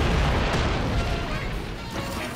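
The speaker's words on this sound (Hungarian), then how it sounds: "robbant!" Cartoon explosion in an animated Hungarian show about cars and a fire truck: a loud, sustained rumbling roar that fills the whole clip, with no clear speech over it.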